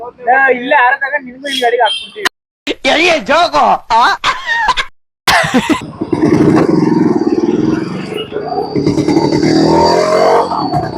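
A GT motorcycle pulls up and revs, its engine noise rising into a steady, loud rumble through the second half after people talk over quieter moments earlier.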